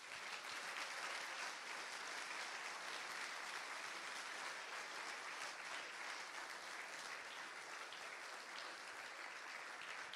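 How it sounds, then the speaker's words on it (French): A conference audience at a closing keynote applauds steadily for about ten seconds, a dense, even clapping that neither swells nor fades, with no voices over it. "que vous pouvez fortement applaudir"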